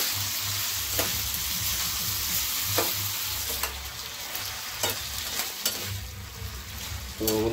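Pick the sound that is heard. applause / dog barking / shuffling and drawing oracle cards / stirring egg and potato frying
stirring egg and potato frying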